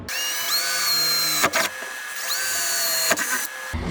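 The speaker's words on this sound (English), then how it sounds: "And then just drill the rest of them" A power drill whirs in two long runs, each ending with a brief grinding burst as the bit bites, close and loud.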